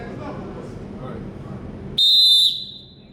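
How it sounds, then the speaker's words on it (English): A basketball official blows a single sharp, loud referee's whistle for about half a second at a new officials' practice clinic, cutting through quieter room murmur before it fades. "Now it's the next level whistle."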